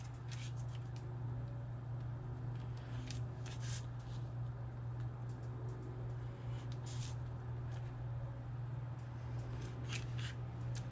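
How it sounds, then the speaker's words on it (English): Scissors cut paper tabs at an angle for a handmade custom box, giving a few soft, close snips spaced irregularly over a steady low hum, with no speech. "And then I'm going to angle cut these tabs."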